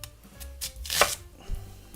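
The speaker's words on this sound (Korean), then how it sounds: "이렇게 잘라볼게요." A knife chops through Korean radish on a cutting board, cutting thin slices for pot-cooked rice: a few sharp, crisp strokes spaced irregularly, with the loudest near the middle, close and clear with no talking.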